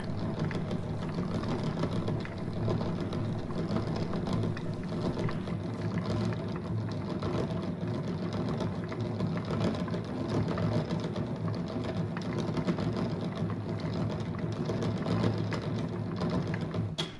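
Yarn wound by hand from a hank on a mechanical winder at normal speed, giving a steady, continuous whirring and rattling drone that stays even and close for the whole stretch, with no talking.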